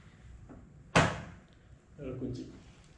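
The recline mechanism of an HBADA gaming chair locks with one sharp clack close to the microphone, followed by a quieter rattling release, with a voice speaking faintly around it.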